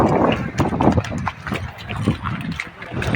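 Horse hooves clip-clop on a dusty mountain trail between Amarnath and Panchtarni, the uneven, close strikes overlapping with other riders' animals while people talk over them.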